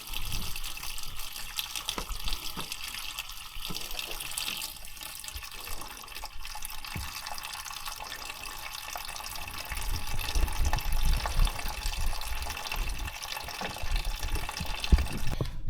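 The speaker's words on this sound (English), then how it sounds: "the fluid is draining right into the funnel and then right underneath in" Coolant fluid drains from a Chrysler Town & Country into a funnel and drain pan, a steady trickling pour with occasional drips that lasts throughout and swells slightly louder toward the end.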